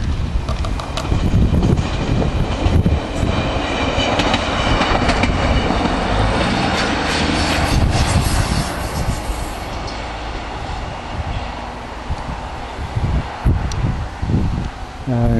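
A train rolls through a railway junction with a loud, sustained rumble and rhythmic clatter of wheels over rail joints. The sound swells and thins as the cars pass close by, with wind buffeting the microphone.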